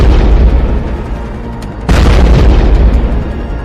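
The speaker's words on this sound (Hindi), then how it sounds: "उसके गुंबद के पास होता है एक बड़ा धमाका।" A drone explodes near the dome of the Kremlin in Moscow, a loud deep boom followed by a rumbling roar, with a second heavy blast midway that keeps rolling on.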